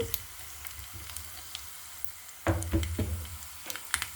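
Hot oil sizzles steadily while spices are tempered for Andhra-style pachi pulusu, with a sharper burst of crackling partway through as something is dropped in, then a few light clinks.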